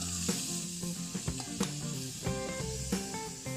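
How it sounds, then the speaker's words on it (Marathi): Soft sizzling of chopped cucumber pieces in hot tempering oil in a pan, with scattered clicks and clinks of utensils, faint and continuous, no voices. "फोडणीमध्ये आपण हे बारीक केलेले काकडीचे काप घालून घेऊयात"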